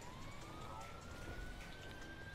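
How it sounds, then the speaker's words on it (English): A police siren in the video game GTA 5 wails faintly from a distance, its tone rising slowly, over a low rumble of traffic and engine noise. "I hate the sirens"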